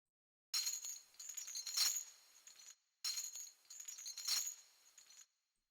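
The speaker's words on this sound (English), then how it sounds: "sounds like a chime, but originally it was like a rattling chain sound." Two identical bursts of a chime-like techno sample built from a rattling chain, each a shimmering metallic jingle lasting about two seconds, separated by a short silence and fairly quiet.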